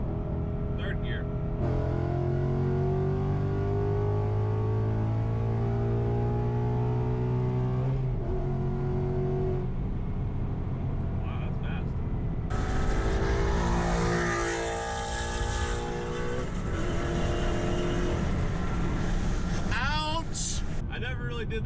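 A 2018 Mustang engine revs hard through the gears, its pitch climbing steadily, then drops and builds again with a rougher, louder roar near the end.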